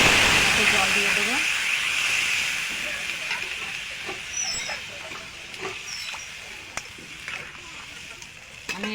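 Loud steamy hiss and splatter as water hits radish frying in a pan, strongest at first and then fading to a softer sizzle with scattered small crackles.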